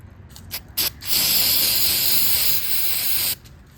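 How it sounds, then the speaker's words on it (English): Aerosol spray hisses close by after a few short bursts, then one long steady hiss for about two seconds before stopping abruptly, sprayed onto a leaking Toro TimeCutter 42 zero-turn mower valve cover during gasket replacement. "take this here and spray this real good."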